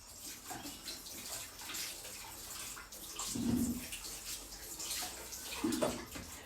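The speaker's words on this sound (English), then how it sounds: "I'm just going to go and quickly wash this off." Tap water running into a sink while something sticky from baking hot cross buns is rinsed off, a steady close splashing rush with brief swells, plus faint voice-like sounds in the background.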